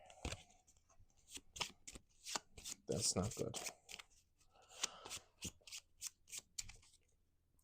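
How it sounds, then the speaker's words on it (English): Repeated riffle-and-bridge shuffling of a board game's card deck, crisp rapid flutters in bursts, close by, with someone briefly speaking partway through. "Shuffle it back into the creature deck."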